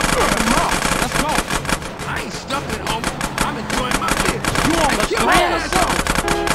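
Rapid game gunfire from a drive-by in GTA San Andreas, dense bursts of shots running throughout, mixed with character voices and music-like game audio.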